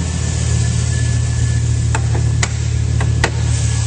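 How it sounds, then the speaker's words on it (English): A 2004 Chevrolet Silverado 1500 crew cab Z71 4WD idles smoothly under the open hood, a steady low engine hum with a few light ticks, close and continuous. "a nice clean engine bay running very smoothly"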